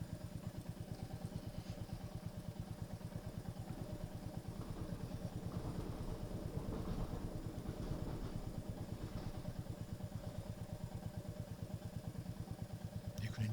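Motorcycle engine idling close by, a fast, even low-pitched throb with slight clatter that stays steady throughout, fairly quiet, with a faint murmur in the background.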